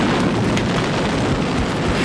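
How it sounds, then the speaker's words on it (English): A ship's powder magazine blowing up, a dense continuous roaring blast with crackling debris, loud and close throughout, no speech. "Nelson returned on deck just in time to witness the mighty explosion that ripped the heart out of L'Orient."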